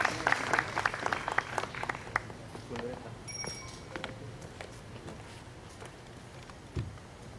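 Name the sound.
audience applause for four photographers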